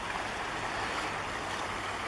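River rushing near a trail in Sitka National Historical Park, about 300–400 yards upstream of a walking bridge; a steady, broadband, fairly loud flowing-water wash continues throughout with no voices.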